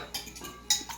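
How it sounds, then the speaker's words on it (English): A metal spoon drops in a kitchen while chicken fried rice is being made, giving two quick, bright clinks close by in a short, quiet moment. "Drop a spoon."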